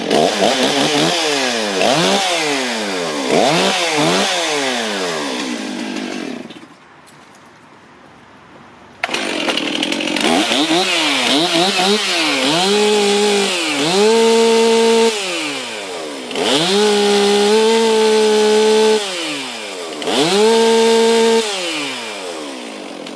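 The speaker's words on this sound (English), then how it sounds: "This saw sends a very high frequency vibration into my hand" A Stihl MS362 chainsaw runs loud and close, revving repeatedly with rising and falling engine pitch, dropping briefly to a quiet lull before roaring back into sustained high revving.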